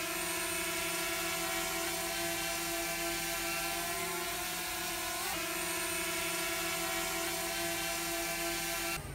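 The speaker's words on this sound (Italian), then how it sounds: "ma cosa stai facendo col drone?" A flying camera drone buzzes nonstop with a steady, high rotor whine that holds the same pitch throughout, close and loud, with no talking.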